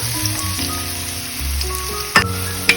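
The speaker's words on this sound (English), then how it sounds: "In a wok, have some oil. Let the oil warm a little bit. Add your onion." Onion sizzles in warm oil in a wok, a steady frying hiss throughout with faint clinks and two sharp utensil knocks near the end.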